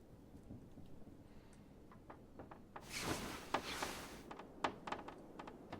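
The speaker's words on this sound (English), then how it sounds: "listen to that little storm out there blowing around" Storm blowing outside in the survival video game The Long Dark: a faint, low rushing wind that swells into a louder gusty hiss midway, with scattered light ticking sounds over it and no talk.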